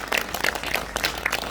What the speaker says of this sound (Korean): 이렇게 멋진 조직을 만들어주신 우리 이진수 위원장님에게 뜨거운 박수를